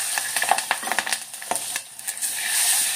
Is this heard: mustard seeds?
yes